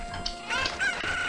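Chickens in Zelda Ocarina of Time give a couple of short, sharp clucks and squawks, close and fairly loud over a quiet background.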